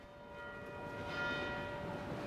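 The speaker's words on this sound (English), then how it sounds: "During Lent, the Angelus bell rings out daily from St Anne's Church" Angelus bell of St Anne's Church in Manchester city centre at noon, a sustained ringing tone hanging over steady city background noise, distant and moderately faint.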